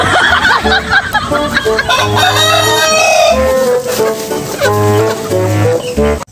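In a small backyard poultry yard, loud close rooster crows ring out over a busy background of clucking hens, with several overlapping calls throughout.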